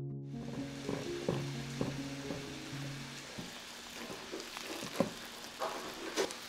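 Yeast, sugar and flour are mixed with a silicone spatula, giving soft, irregular scraping and sticky dabbing sounds, faint and close, over a low background hum.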